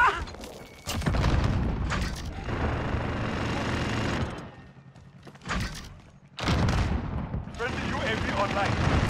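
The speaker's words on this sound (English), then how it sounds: "Throwing grenade!" A grenade explosion and gunfire in the Modern Warfare video game during infected and team deathmatch matches: loud booms and gunshot bursts separated by quieter gaps, with players talking in between.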